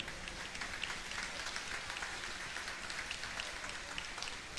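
A steady wash of applause from a crowd at a Catholic Mass, fairly soft and distant, with no break over its few seconds.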